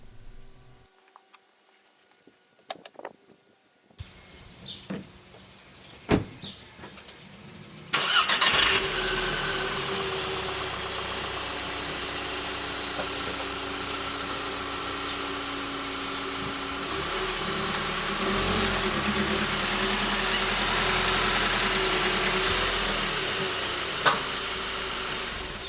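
A VW GTI Mk6 drives up Race Ramps: after a few quiet clicks and knocks, the engine rises into a steady, fairly loud drone that continues for the rest of the clip with one sharp knock near the end.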